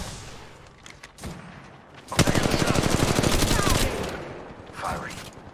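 Loud automatic gunfire in a first-person shooter match: a few scattered shots, then a long dense burst of rapid fire. Another short volley follows near the end.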